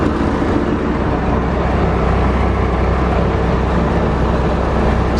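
An International truck engine idling outdoors, a loud, steady, unbroken rumble that fills the whole stretch with no talking.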